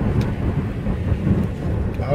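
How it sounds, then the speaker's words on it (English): Rain drums on a moving car over a low, steady road rumble, heard from inside the vehicle. "it looks like I'm driving into rain"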